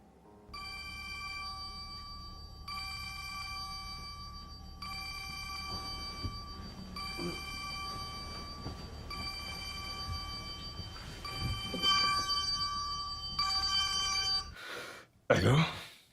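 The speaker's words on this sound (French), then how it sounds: "Décroche ton téléphone." A telephone rings in repeated bursts of bright electronic trilling, moderately loud and close, with short pauses between rings, followed by a brief rustle at the end.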